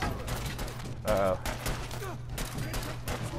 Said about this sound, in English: Oh, I am shooting at the wall.